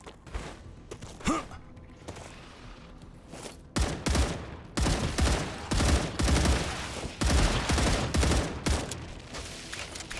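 Gunfire in the sci-fi game StarRupture: sharp bursts of shots come in clusters, sparse at first and then dense and loud in rapid volleys through the second half.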